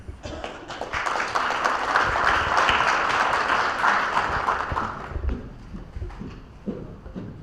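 Audience applause swells across a stage event as a chamber of commerce leader walks up, steady dense clapping for about five seconds before thinning out, with a few voices over the fading claps.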